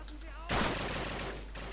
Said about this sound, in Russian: Где-то еще стреляет.